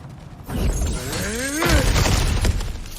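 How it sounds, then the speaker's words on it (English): Objects smash apart in God of War Ragnarok, with a sweeping tonal whoosh followed by a loud crashing shatter and scattered debris clatter that fills the rest of the moment. "back to smashing through things for fun and profit"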